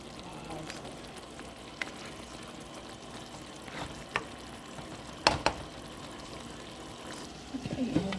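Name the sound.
taco spaghetti meat sauce simmering in a pot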